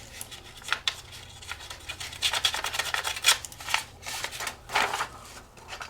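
Rough, scratchy rasping as a distressing tool roughens the edge of a paper journal page, a dense run of uneven strokes and scrapes, close up with no talking.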